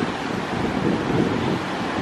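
Ocean surf rolls in below a coastal lookout at Noosa, Australia, where surfers ride the waves, heard as a continuous broad wash of breaking water mixed with gusting wind buffeting the microphone.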